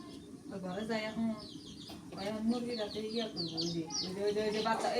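Chickens cluck and squawk nearby while several people talk and call out over them.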